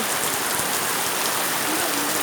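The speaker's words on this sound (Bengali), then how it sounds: "অজস্র বৃষ্টি হইতেছে" Heavy rain pours steadily during a flood in a rural union, a dense, continuous hiss of water striking surfaces at close range with no pause throughout.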